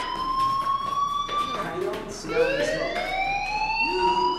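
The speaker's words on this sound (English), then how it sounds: "do you hear that fire alarm?" A fire alarm rings inside the Life is Strange video game, a loud electronic siren tone that sweeps and repeats over a continuous background bed, heard close and steady throughout.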